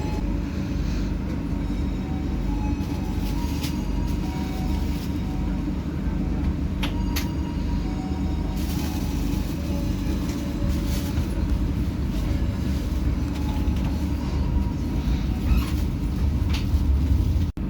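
Brawijaya, an old long-distance executive train, rolls out of Semarang Tawang station at night, a loud, continuous rumble of wheels and carriages heard from on board, with faint squeals and clanks over the steady drone.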